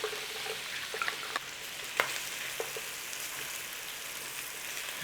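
Garlic frying in oil in a pan for a beef and bean chili, a steady soft sizzle with a few small pops and stirring clicks, quiet and with no talk.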